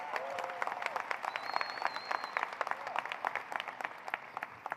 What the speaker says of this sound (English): So round of applause for our tremendous Blue Key organization.